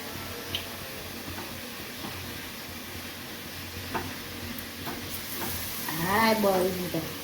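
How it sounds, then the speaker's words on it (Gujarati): Potato batter vadas fry in hot oil in a home kitchen, giving a steady, even sizzle and bubbling throughout, with a brief voice near the end. "બટાકાવાળા તળવાની તૈયારી ચાલુ કરી દીધું"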